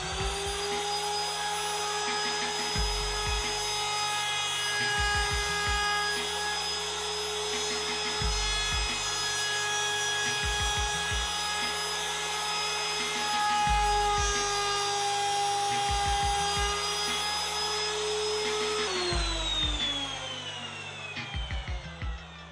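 Router cutting dovetails in a wooden board clamped in a dovetail jig, a steady high whine with repeated rhythmic bursts of grinding as the bit passes through the wood, then the motor winding down near the end.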